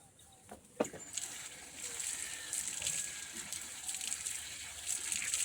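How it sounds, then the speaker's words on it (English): Water runs from an outdoor pipe as a hand is washed, a steady faint gush after a sharp knock, with chickens or birds faintly in the background. "I'm going to wash my hand at the pipe"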